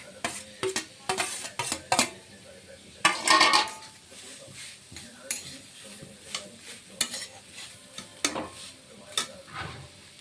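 Fried carrot and beetroot, with boiled grated potato just added, are stirred in a pan, giving repeated scraping and clattering strokes of a utensil over a soft sizzle.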